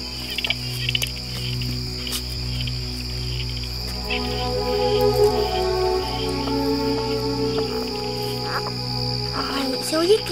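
Small frogs (Rheohyla miotympanum) call at night in a dense, shrill chorus of steady, repeated high-pitched notes that continues throughout at moderate loudness.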